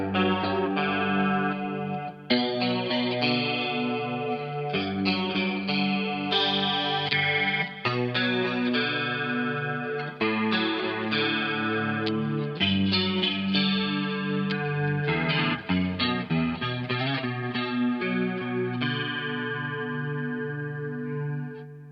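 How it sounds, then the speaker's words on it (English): Jackson DK24 electric guitar plays a clean tone through volume, tone and 5-way selector settings, with ringing chords and arpeggiated notes shimmering with a chorus effect, with no talking. "a volume, tone and a 5-way selector switch for a nice versatility, especially for the clean tones, as you can hear in the next clip"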